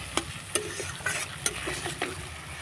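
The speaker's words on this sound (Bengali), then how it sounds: "নাড়াচাড়া করে কষিয়ে নেব।" Green peas stir-fried in a pan for an aloo curry, with a spoon clacking against the pan in sharp, spaced strokes over a low, continuous sizzle.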